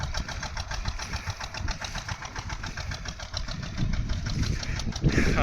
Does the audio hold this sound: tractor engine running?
yes